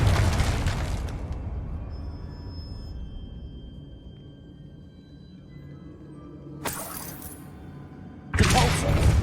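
A Confringo blast spell cast in Hogwarts Legacy, heard as a loud broadband burst at the start that decays into a low rumble, followed by two more sharp crashing bursts near the end.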